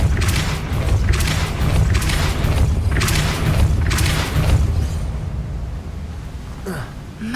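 The Depulso spell fires in Hogwarts Legacy: a series of loud booming thumps pulses in a steady rhythm over a deep rumbling bed, then fades into quieter ambience.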